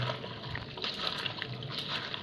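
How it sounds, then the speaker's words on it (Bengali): Cut vegetables get rinsed under cold running water at a household sink basin, producing a soft continuous trickle with light splashes and faint handling noises. "এইদিকে দেখো আমার পিসি সবজি ধুচ্ছে, কেটে ধুয়ে ধুচ্ছে।"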